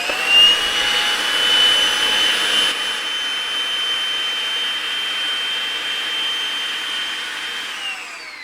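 A powered pipe machine reams and bevels the end of a gas line pipe, giving a steady loud whirring hum with a high tonal whine that holds evenly throughout, with no talk.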